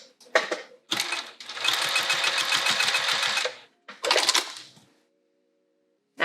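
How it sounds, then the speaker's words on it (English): A sewing machine tacks down fabric with the stitch length turned almost to nothing, in short stop-start bursts of fast rattling stitches separated by pauses. "turning that stitch length way down to almost nothing and then sewing"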